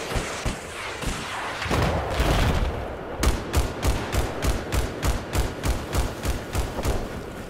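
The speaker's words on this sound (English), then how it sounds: "I can't tell who he's shooting at." Battlefield 4 gunfire: a loud rifle burst and chaotic shots at first, then a steady rapid series of about fifteen sharp, evenly spaced automatic-weapon reports.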